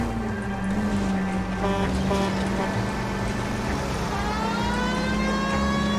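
A car driven through city traffic in the video game L.A. Noire, its engine holding a steady loud drone with pitch shifts as it accelerates, alone without talk.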